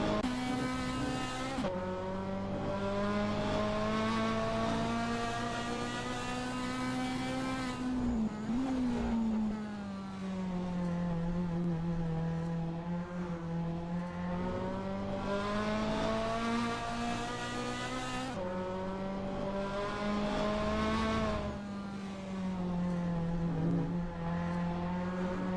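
A GT race car on the Nürburgring Sprint circuit in a racing game screams through the gears, its engine note rising and dropping with each shift and braking point, loud and continuous for the whole stretch.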